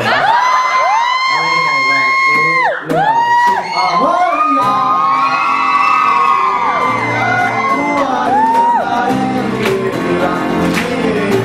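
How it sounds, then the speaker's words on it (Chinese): A concert crowd screams and cheers in loud sustained high-pitched shrieks and whoops, many voices overlapping close by with no break. "尖叫声不够。"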